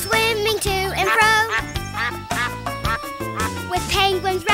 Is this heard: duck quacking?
yes